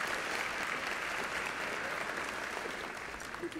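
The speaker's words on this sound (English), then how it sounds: "just one more round of applause for our sponsors that helped to make this event possible" Sustained audience applause for sponsors at a school district Teacher of the Year banquet, a dense, steady clatter of many hands filling the room and easing slightly at the end.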